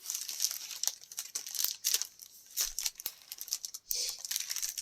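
A couple of sheets of craft paper from a scrapbooking shop being handled: soft, close crinkling and rustling in quiet bursts, with occasional sharper crackles and brief pauses.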